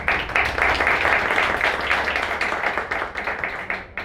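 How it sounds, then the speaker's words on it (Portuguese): An event audience applauds to welcome a presenter onto the stage at a customer-service talk, a dense, steady wash of clapping with some low rumble, sustained throughout and fading slightly at the end. "Quero que vocês recebam com muitas palmas, Andréa Medina."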